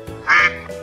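A duck gives a single short, nasal quack, close and clear.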